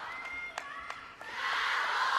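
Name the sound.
crowd chanting at table tennis match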